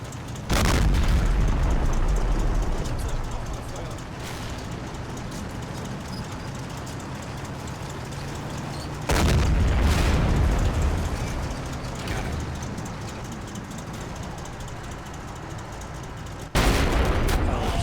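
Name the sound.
Panther tank gunfire hitting heavy tank, Combat Mission Red Thunder video game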